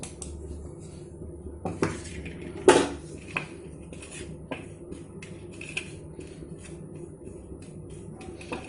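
Ground amla spice mixture being mixed in a bowl, with soft scraping and occasional clinks of a spoon against the dish, fairly quiet and close.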